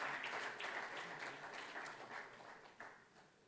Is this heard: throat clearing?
no